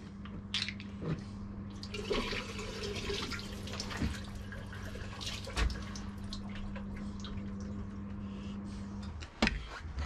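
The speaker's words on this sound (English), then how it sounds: "Right, pour out the water." Water being poured out of a tank during 4x5 sheet film developing, a steady splashing, trickling pour running for most of the stretch over a constant low hum, ending abruptly near the end.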